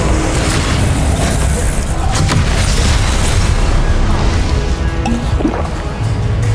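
Confringo fire spell blasts in Hogwarts Legacy combat, a dense, continuous roar of booming explosions and rumbling impacts filling the scene, loud and near throughout with no clear gaps.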